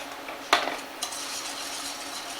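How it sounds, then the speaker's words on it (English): Crushed black peppercorns drop into stock in a pan for a creamy peppercorn sauce, giving a brief rattle and clink of utensil against the pan over a quiet, steady simmering hiss. "Add this pepper to the stock"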